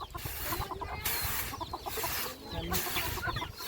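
Chickens in a rural Lao village cluck and call near the microphone in repeated bursts over a busy background of scratching and rustling, with no one talking.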